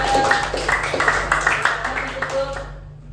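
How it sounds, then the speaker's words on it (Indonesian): A classroom group claps for the second group after an Islamic studies presentation on infaq and charity, a dense burst of hands over a low hum that fades out near the end. "kita kasih tepuk tangan dulu buat kelompok 2"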